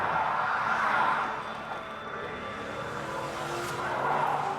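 Car chase in a South Korean TV drama, with engines roaring and tires squealing and skidding as vehicles race past, loud and continuous with swells in intensity.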